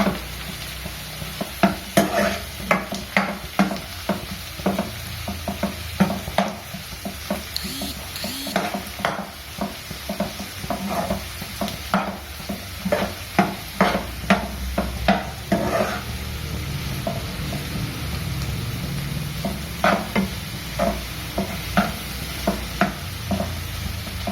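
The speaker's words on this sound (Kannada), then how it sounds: "ಈಗ ಹಚ್ಚಿದ ಸಬ್ಸಿಗೆ ಸೊಪ್ಪನ್ನು ಹಾಕೋಣ. ಚೆನ್ನಾಗಿ ಕಲಸಿ" Chopped dill leaves stirred into upma in a pan, a spoon scraping and clacking against the metal in repeated irregular strokes over a soft steady sizzle, close and fairly loud, with no talking.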